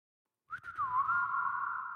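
A single sustained human whistle, used as a musical beat with reverb added, begins after a brief silence with a quick rising chirp, then settles into a long steady tone that rings on smoothly.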